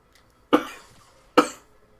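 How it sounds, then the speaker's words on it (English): Two sharp, harsh coughs sound close up, spaced about a second apart, each quickly trailing off into quiet. "This cough really hurts."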